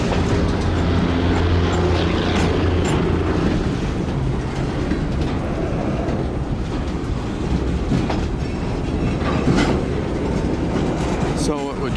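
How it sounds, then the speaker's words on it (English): Local freight train pulling tanker cars into the end of a rail yard in Tampa, Florida, with a continuous rumble, clanking and squealing metal, heard close and loud for the whole stretch. "It's a local train that just pulled into the end of the Yoeman yard."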